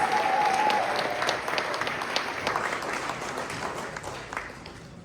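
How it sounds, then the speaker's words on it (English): Sustained applause from a sizable crowd at a tourism awards ceremony in Guyana, steady and full at first, then gradually thinning toward the end. "Please join us in giving a big round of applause to the Honorable Susan Richards, Minister of"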